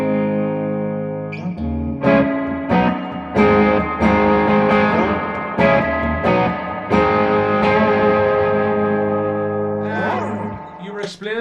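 Electric guitar played through a reverb pedal on a pedalboard, with distorted chords struck in a steady series and each one ringing out with a lingering wash of reverb, loud and close.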